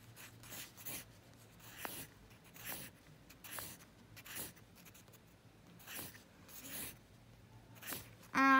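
A pencil sketches a figure on paper, making quiet, close, scratchy strokes that repeat in short bursts with a steady rhythm and no talking.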